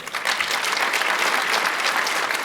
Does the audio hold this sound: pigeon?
no